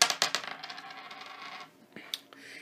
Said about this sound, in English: So let's go ahead and roll our dice.